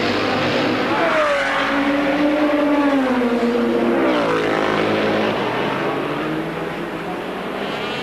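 Ford and Jaguar race cars at the 1984 IMSA Grand Prix of Miami, loud engines roaring past close by with a rising then falling whine, heard alone without commentary.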